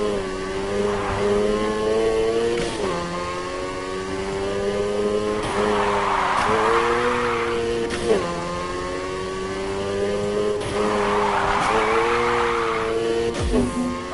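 A car drifting in Need for Speed Heat, its engine revving and shifting through repeated rising and falling surges while tires squeal loudly through long slides, close and continuous, with a voice speaking over the driving at times.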